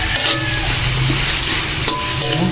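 Chicken and vegetables for pancit bihon are stirred in a hot pan, with a loud, close, steady sizzle and scraping, stirring noises throughout and no talk.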